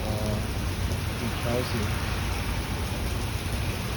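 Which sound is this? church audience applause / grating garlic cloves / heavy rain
heavy rain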